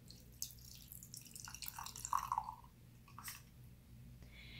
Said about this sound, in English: And then I'm going to pour in my matcha.